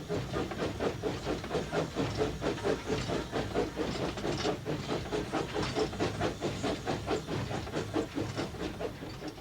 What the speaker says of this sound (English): There's nothing that gets the adrenaline flowing more than a steam locomotive working hard.